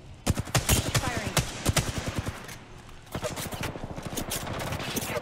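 Rapid automatic gunfire in the Apex Legends video game, dense bursts of shots in quick succession with a short pause before firing resumes, loud and continuous with a voice talking faintly underneath.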